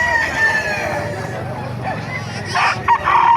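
At a pet market, a hen-feathered rooster crows loudly and close by, one drawn-out call rising over steady market murmur and background voices.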